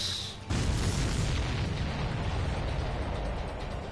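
Missiles explode in the Ace Combat 7 flight combat game, a loud booming roar that swells suddenly and then rumbles on continuously under dense noise, with no voices.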